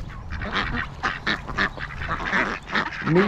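Wild ducks quack in a park in New Zealand, a close, busy flock calling in overlapping bursts throughout, with a sharper call near the end.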